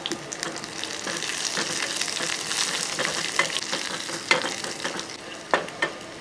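Shallots, dried red chillies and mustard seeds fry for tempering in hot oil, giving a dense continuous sizzle with scattered pops and spoon stirring strokes, close and fairly loud.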